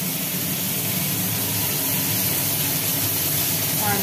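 Sliced bitter gourd hits hot oil in a kadai, giving a steady, dense hiss of frying that stays loud and even throughout.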